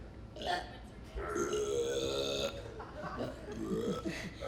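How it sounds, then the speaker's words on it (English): A voice belting out a burping song in a playful musical number, with sustained burp-like sung tones and a short gulping break in the middle, rising and falling over steady backing. "Oh, how I love to burp."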